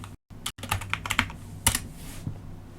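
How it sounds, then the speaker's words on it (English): Close, crisp keystrokes on a computer keyboard as a pip install command is typed, with an uneven run of clicks and brief pauses and no talking. "Now the next step is actually to type pip install"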